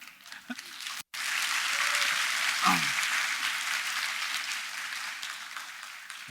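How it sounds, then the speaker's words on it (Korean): An audience applauds a poet giving a lecture-style talk on stage: after a short pause, broad, continuous clapping from a large crowd fills the room, with a voice briefly heard over it. "참 박수를 받으니까 좀 쑥스럽네요."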